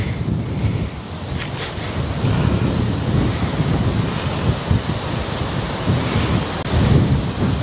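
Loud, steady wind roaring and buffeting the microphone on a golf course, a constant rumbling rush with no voices.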